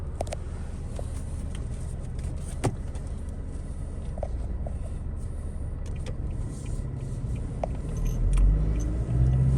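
Steady low engine rumble and road noise from a Toyota Revo manual pickup cruising with an aftermarket cruise control system, continuous cabin hum with a few faint clicks, swelling slightly louder near the end.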